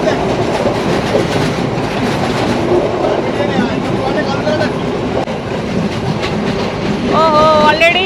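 A train running through Sri Lanka, with a continuous loud rumble and rhythmic clatter of wheels on track, plus brief squeals near the end.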